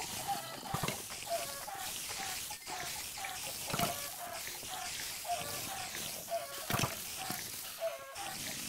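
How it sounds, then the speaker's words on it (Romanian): Repeated clucking of a chicken in a Minecraft-style mining game, short bursts recurring at a steady pace over dense game sound and background noise. "Aud o găină."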